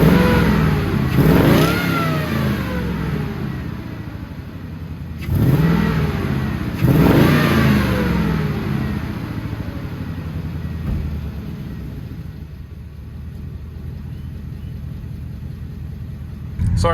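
A car engine revs hard in repeated bursts, two or three rising sweeps that fall back to a steady rumbling idle, loud and close with rough, distorted recording.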